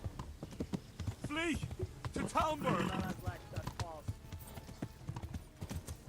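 Hooves clip-clop in a steady rhythm as a horse moves in the video game Kingdom Come Deliverance, partly buried under lively speech from people talking over the gameplay.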